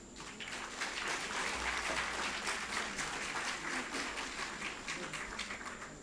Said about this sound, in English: Let us give the winners a great round of applause.